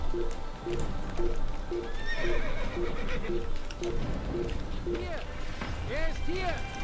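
Horse whinnies and steady clip-clop hooves in the Assassin's Creed video game, a regular trotting rhythm running throughout with a couple of neighs near the end, under a voice talking.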